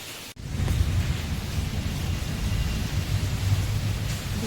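Heavy rain pours steadily and loudly near a kitchen veranda, a dense continuous roar with no talk.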